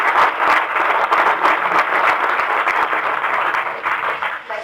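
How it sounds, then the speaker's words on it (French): An audience claps steadily for a presenter, a sustained, dense round of applause of fairly even loudness throughout, with no voices over it. "on va l'applaudir"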